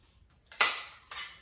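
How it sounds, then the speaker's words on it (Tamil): A small metal serving ladle handled among kitchenware during an unboxing gives two sharp metallic clinks, about half a second apart, each ringing briefly before fading, close by with no talk. "இது ஒரு சாப்பாட்டு கரண்டி அமைச்சிருக்காங்க சின்னதாக"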